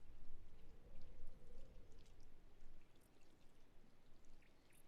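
A faint, steady rush of pouring water in PowerWash Simulator 2, a soft continuous spray flow with a low gurgling texture and no talking.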